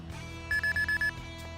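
A 2018 Honda Clarity's warning chime sounds as the door closes with the car still on: five short, evenly spaced electronic beeps, clear and close over a quiet cabin hum.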